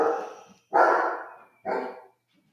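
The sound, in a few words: dog barking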